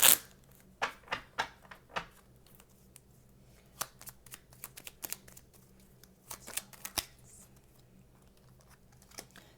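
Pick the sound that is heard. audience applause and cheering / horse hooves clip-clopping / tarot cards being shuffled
tarot cards being shuffled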